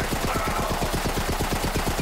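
Rapid automatic gunfire from the video game Borderlands 3: a steady, fast stream of evenly spaced shots for about two seconds, loud and continuous with no pauses.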